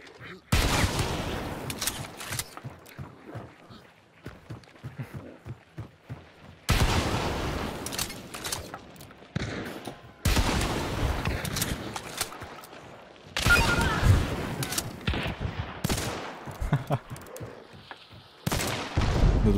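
Gunfire in a video game, loud bursts of rapid shots come in several separate volleys with short quiet gaps between them.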